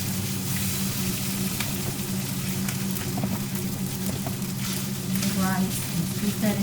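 Rice scooped into a hot pan of melted fat for a crab stir fry, frying with a steady close sizzle and crackle throughout, under a low background hum.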